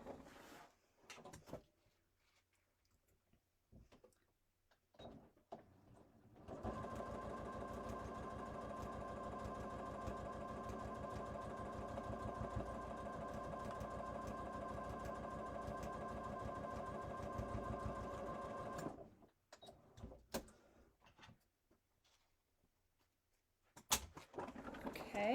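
A sewing machine stitches along the top edge of two fabric squares for a cross body bag, running as a steady mechanical whir for about twelve seconds. Quieter handling sounds come before and after.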